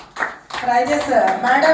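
Audience applause at an anniversary celebration, continuous clapping filling the background beneath someone speaking over it.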